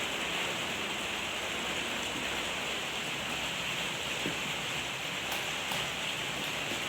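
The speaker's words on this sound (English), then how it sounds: "So in the conservatory you can hear the rain." Heavy rain drums steadily on a conservatory roof overhead, a constant loud hiss with no letup and no voices.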